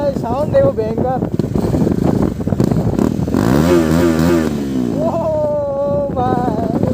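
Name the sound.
motorcycle engine revving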